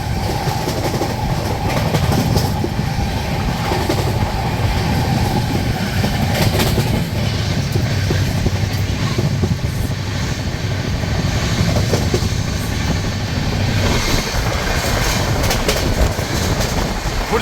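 Aboard the 12259 Duranto Express on an Indian rail line, a loud, steady rumble of wheels on track carries a continuous clickety-clack, with no break in the noise.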